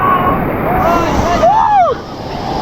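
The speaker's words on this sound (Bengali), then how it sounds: "এটা ঢেউটা দেখেন, ঢেউটা দেখেন," Sea surf rolls in at Cox's Bazar beach with wind buffeting the microphone, a broad steady wash close by, and sweeping whistling tones cut across it.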